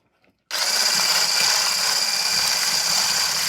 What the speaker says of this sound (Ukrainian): В яйця додаємо дрібочку солі і починаємо, і починаємо збивати.